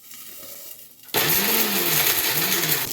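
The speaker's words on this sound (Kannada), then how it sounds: "ಅಷ್ಟರಲ್ಲಿ ನಾವು ಕೊಬ್ಬರಿ ಮತ್ತು ಶೇಂಗಾನ ರುಬ್ಕೊಂಬಿಡೋಣ ಬನ್ನಿ" Electric blender grinding dried coconut and peanuts starts suddenly after a quiet moment and runs as a loud, close, steady whirring roar.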